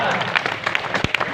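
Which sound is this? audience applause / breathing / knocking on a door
audience applause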